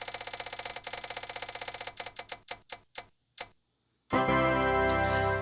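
A spinning prompt wheel ticking rapidly, then the clicks slow and space out until it stops, followed by a loud burst of bright music.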